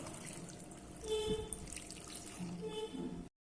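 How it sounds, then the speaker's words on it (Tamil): Water splashing and trickling into a pressure cooker over brinjal in short bursts, with faint clinks of a container, close and fairly quiet. "இப்போ இது மூழ்கிற அளவுக்கு தண்ணி ஊற்றிக்கலாம்"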